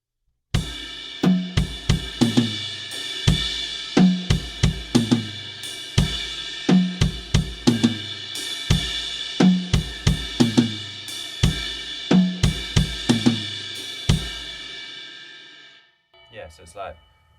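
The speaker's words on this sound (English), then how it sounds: "sort of cymbal pattern that happens right at the end of the bar," Drum kit played in a groove, steady repeating hits with a cymbal pattern at the end of each bar after rack toms, near and fairly loud, a brief separate tail at the close.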